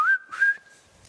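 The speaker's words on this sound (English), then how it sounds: "Can you whistle?" A person whistles a short, clear two-part tune during a children's story reading: a rising note, then a sustained steady pitch. Nobody speaks over it, and it ends in quiet.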